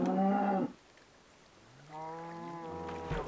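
Minecraft cows moo twice, close and clear: one short low call, then a longer drawn-out one after a brief quiet gap.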